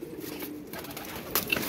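Pigeons coo softly at close range in a loft of pedigree flying pigeons, a short low murmur with a couple of brighter chirps near the end.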